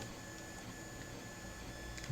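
A 3D printer mid-print makes a steady mechanical whir with faint low knocking running through it, quiet and continuous throughout.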